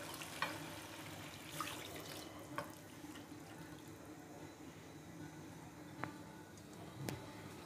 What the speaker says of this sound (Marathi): तर त्याला 4 वाट्या पाणी घालायचं आहे